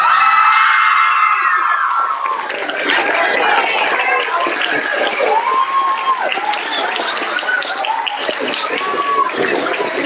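A crowd applauds and cheers for the winner of an original poem contest at a poetry slam, with steady, dense clapping and shouts carrying across the full stretch while voices call out above it.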